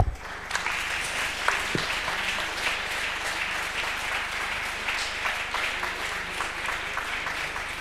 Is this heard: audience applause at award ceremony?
yes